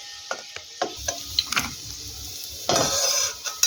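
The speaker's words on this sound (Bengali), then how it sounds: "এবারে আমরা সবজিগুলোকে তুলে নেব" Fried mixed vegetables with capsicum are stirred and scooped from a pan in oil, giving a string of metallic scrapes and clinks over a soft, intermittent sizzle, with a louder scraping burst near the end.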